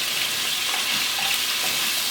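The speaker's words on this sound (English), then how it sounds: "I'm stir frying the pork meat" Diced pork meat stir frying in a pan for a Puerto Rican rice dish, giving a steady, close hiss and sizzle throughout with no pauses and no talking.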